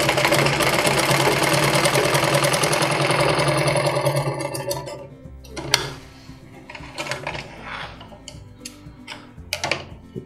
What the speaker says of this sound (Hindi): अभी सिलाई देखेंगे।